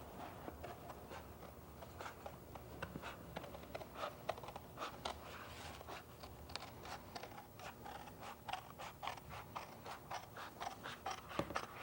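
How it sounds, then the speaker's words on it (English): Tin snips cut chipboard while a gas tank template is being shaped for a motorcycle frame. The snips make a long run of quiet, crisp clicks and snaps at an irregular, steady pace, close by. "I like using tin snips for cutting the chipboard"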